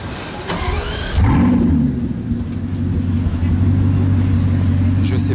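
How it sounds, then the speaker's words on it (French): A Bugatti Chiron supercar fires up on a Paris street near the Eiffel Tower, a loud whir and bark giving way to a deep, steady idle rumble close by, with some voices in the background. "j'en suis à mon combienième start-up de cette Chiron que je vous filme"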